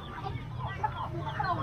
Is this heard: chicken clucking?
yes